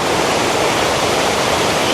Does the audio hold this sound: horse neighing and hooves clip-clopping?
no